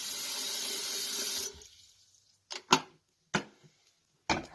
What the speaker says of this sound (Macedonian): Го полниме први бокалот со вода.